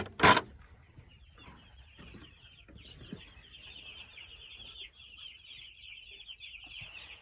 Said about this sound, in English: Let's go check our chicks.